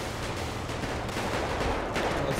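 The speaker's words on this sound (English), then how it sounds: "Gunfire." Gunfire in GTA 5 roleplay around a yacht, a loud burst of rapid shots mixed with dense crackling.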